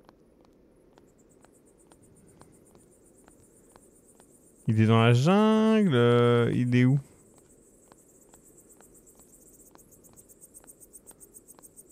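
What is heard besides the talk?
cicadas chirping in the video game At Tony's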